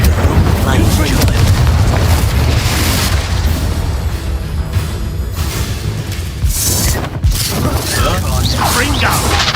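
Fire and blasting spells cast in the Hogwarts Legacy video game, a dense run of loud booms, cracks and bursting impacts over a constant low rumble, with a voice talking over the action.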